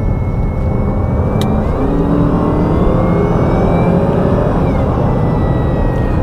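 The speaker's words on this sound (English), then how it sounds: "Listen to that supercharger spoil up." Supercharged 5.0 engine of a Range Rover accelerating hard, a loud, sustained rising roar with supercharger whine, steady and close throughout without talk.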